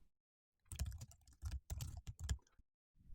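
Quiet computer keyboard typing as a name is entered in a survey module form, several short bursts of clicking keystrokes separated by brief pauses, close and alone.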